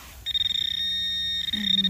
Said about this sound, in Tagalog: Tapos mag beep beep beep ito.